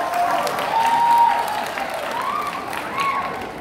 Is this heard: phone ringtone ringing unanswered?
no